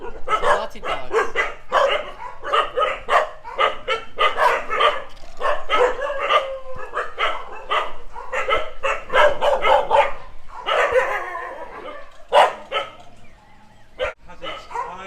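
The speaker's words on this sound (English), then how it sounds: "Teenager dogs." Many dogs at the Soi Dog Foundation shelter in Phuket bark and yip in a busy, overlapping chorus, repeated sharp barks close by with occasional whimpers, continuing loudly for the whole stretch.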